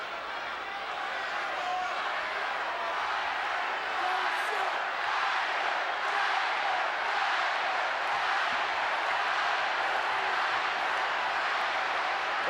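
A capacity crowd in a professional wrestling arena roars without letup, a dense, steady wash of shouting voices for Piper that holds its level the whole time.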